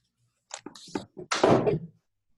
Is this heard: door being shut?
yes